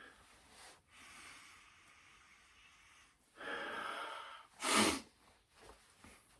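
Someone sniffs a porter beer up close, with quiet breathing followed by a couple of sharp, short sniffs near the end.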